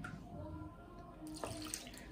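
Water poured into a flour mix for small chops dough, a soft, quiet running trickle that swells slightly partway through, close and unaccompanied by talk.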